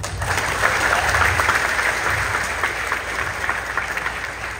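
Audience applause at an Indonesian talk, a dense, steady wash of many hands clapping throughout, fairly loud and sustained with no talk over it.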